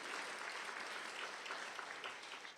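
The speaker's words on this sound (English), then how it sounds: "Let's applaud them on this morning." An audience applauds students at a conference, a dense, steady wash of many hands clapping at once that holds throughout with no talk over it.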